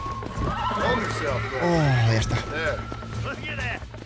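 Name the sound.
horse being tamed in video game Red Dead Redemption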